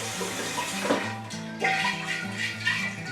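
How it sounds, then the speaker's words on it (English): Water sloshes and swishes inside a glass demijohn as it is rinsed clean of charcoal, a few surging splashes over a steady watery wash. "we need to give our demijohn a good clean out. And the easiest way to do that is just do a little bit of water into it"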